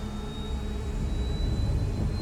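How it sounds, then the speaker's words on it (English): An F-104 Starfighter's jet engine roars steadily in Ace Combat 7, a loud continuous whine and rumble as the aircraft accelerates, with no talk. "I feel like on my end, this jet engine is screaming in my ear."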